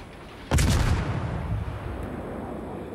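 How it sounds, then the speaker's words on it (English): A Yugumo destroyer's guns fire in a naval battle game, one sharp loud blast followed by a rumbling decay and a fainter distant report. "Throw some shots down range"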